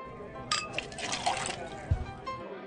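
A drink is poured into a glass at a bar, a faint trickle of liquid with light glassy clinks over quiet room noise.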